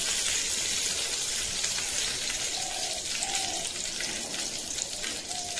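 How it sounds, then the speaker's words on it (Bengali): Whole garam masala and bay leaves sizzle in hot oil, a steady close-up crackling hiss that runs unbroken from start to finish with no talking. "তেলটা গরম হয়ে গেছে, তারপর দিয়ে দেব গোটা গরম মশলা আর সাথে তেজপাতা।"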